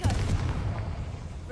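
Spell explosion from a Confringo cast in Hogwarts Legacy, a deep booming burst right at the start that rumbles low and fades away over about a second.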